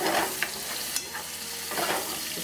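Fresh tomatoes and mushrooms sizzling in butter in a pan over high heat, with a few clinking utensil stirs and scrapes, close up and without talk.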